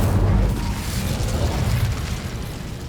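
A fire spell blasts in Hogwarts Legacy, a loud, rumbling burst of magical flame that stays dense and sustained for the whole stretch.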